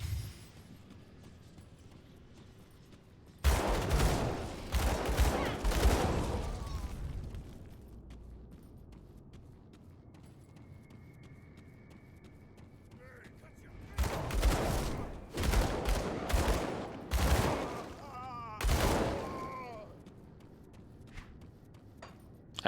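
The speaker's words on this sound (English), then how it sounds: "I'm shooting either walls, or I'm shooting in nowhere, or when I try to shoot, I'm running" Rapid bursts of dual pistol fire in the action RPG Grim Dawn, crackling in several clustered volleys separated by quieter stretches, loud and punchy with boom-like impacts.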